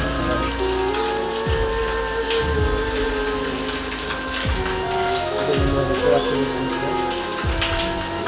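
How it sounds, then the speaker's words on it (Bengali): Heavy rain pours down steadily outdoors, a dense, continuous wash of falling drops with a constant level and no pauses across the whole stretch. "আজকে বৃষ্টি হচ্ছে, এত মানে প্রচণ্ড হারে একটু বৃষ্টি হচ্ছে বন্ধুরা, তোমাদের দেখাচ্ছে।"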